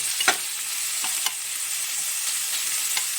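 Onions fry steadily in a pan over a medium gas flame, a constant close hiss with occasional clinks and scrapes of a stirring utensil, no voices.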